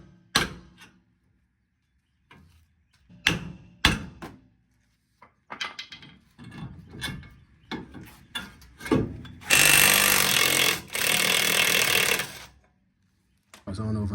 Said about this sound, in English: Now I'm about to hit it with a sledge and it should pop off.